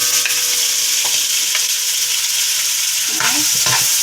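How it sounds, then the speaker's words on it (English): Garlic frying in a hot pan while a Jamaican-style chicken and bok choy dish is cooked, a steady close sizzle broken by a few scraping stirs of a utensil, with no talking. "I'm gonna add in the garlic and first"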